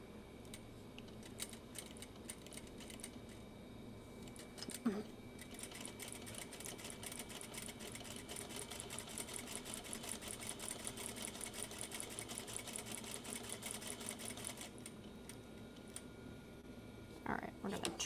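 A sewing machine stitches fabric in a home sewing room, a fast steady mechanical chatter that runs for long stretches, briefly pausing and resuming, while a person talks quietly nearby.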